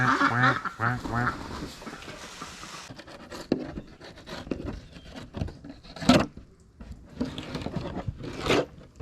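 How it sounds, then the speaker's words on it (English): Ducks quack repeatedly beside a neighborhood canal, a cluster of nasal calls at the start followed by scattered quacks and rustling, fairly close and moderately loud with no talk. "Quack, quack, quack."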